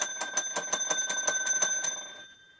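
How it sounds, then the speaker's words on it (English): A bright metallic bell rings rapidly in a steady train of about ten quick strikes, loud and close, then cuts off and leaves a short fading tail. "There is the bell."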